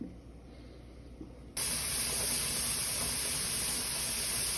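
Steam vents from a canner during cranberry juice canning: a soft hiss at first, then at about 1.5 seconds it jumps to a loud, steady, broadband roar that holds to the end, with no talk.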